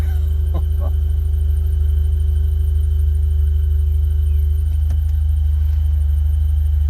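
A 1974 Alfa Romeo on its first test drive moving under its own power, with a loud, steady engine rumble droning throughout, close and constant, marked by a couple of brief clicks.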